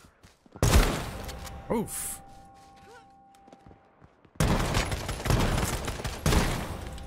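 Gunfire from a shooter game such as Fortnite or Surviv.io comes in loud, dense bursts near the start and again through the second half. A short quiet stretch in the middle holds a mechanical clank, and someone speaks briefly.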